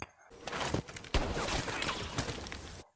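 Gunfire exchange from the 2014 action film Sniper: Legacy, dense bursts of shots and rattling volleys pouring out continuously and loudly, with no talking.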